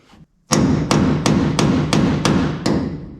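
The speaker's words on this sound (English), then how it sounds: "May need a bigger hammer." Heavy metal-on-metal hammer strikes on a stuck door hinge pin of a 1965 Dodge Coronet 500, seven in steady rhythm, close and loud with ringing decay between blows.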